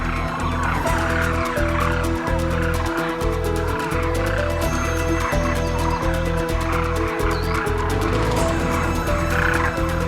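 Cranes gather for a morning grain feeding in a Thar Desert enclosure, their dense overlapping croaking, bugling calls sustained and loud throughout, a crowded flock chorus with no talk.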